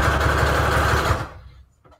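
A sewing machine runs a zigzag stitch through paper scraps for a junk journal embellishment, a steady close mechanical chatter that stops abruptly after about a second and a quarter, leaving near silence.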